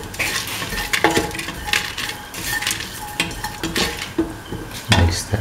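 A spoon scrapes and clinks against a bowl while mint coconut dip is mixed, giving repeated uneven stirring strokes and metallic taps, close and fairly loud, with no speech.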